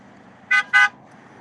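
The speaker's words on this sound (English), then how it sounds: "Do you hear all them honks?" Two short car horn honks in quick succession, fairly loud, over a quiet background hum.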